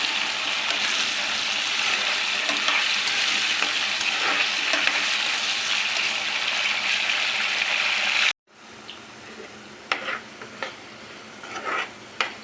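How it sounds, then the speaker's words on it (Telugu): Potatoes frying in hot oil give a loud, steady sizzle for several seconds, then a sudden drop to quieter crackling with a few scrapes and clinks of a spoon stirring in the pan. "ఆయిల్లో ఆలు వేసుకొని బాగా మనం ఫ్రై చేసుకోవాలండి."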